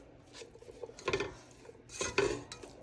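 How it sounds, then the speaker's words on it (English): Spoon stirring chili meat and vegetables with seasoning in a pot, with soft scraping and clinks against the pot in two louder bursts, close by and without talk. "Give this a stir."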